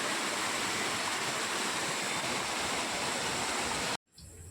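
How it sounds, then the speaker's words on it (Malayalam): Continuous rushing water from a small waterfall, a steady dense roar that cuts off abruptly near the end. "ചെറിയൊരു വെള്ളച്ചാട്ടം ഇതെൻ്റെ വലുത്"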